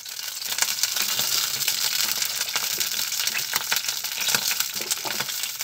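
Bay leaf dropped into hot oil in a kadhai, giving a steady close crackle and sizzle with scattered sharp pops throughout, no talking.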